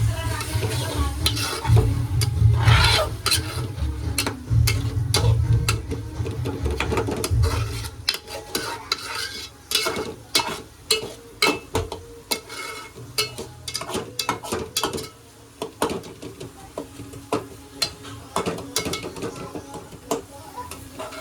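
A spoon scrapes and clatters against a pan while onion, tomato and masala roast for a prawn dish, sharp repeated stirring knocks over a soft sizzle, with a low rumble fading early on.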